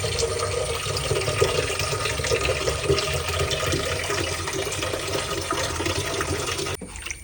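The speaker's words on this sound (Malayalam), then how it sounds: "ഇത് വെച്ചിട്ട് കഴുകി അലമ്പി കഴുകാട്ടോ." Curry leaves being washed in water: a steady close rush of running, splashing water that cuts off abruptly near the end, with no speech.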